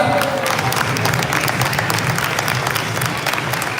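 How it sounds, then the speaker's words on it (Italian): Crowd applause at an amateur AIBA boxing event in Spinea, Veneto, a dense, steady wash of many hands clapping close by for nearly four seconds, with faint cheering mixed in. "Un applauso ancora!"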